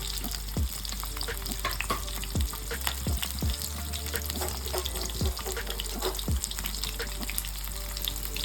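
Onions, cinnamon and cloves frying in a pan, a continuous loud sizzle broken by regular sharp stirring knocks and scrapes against the pan, with no talking.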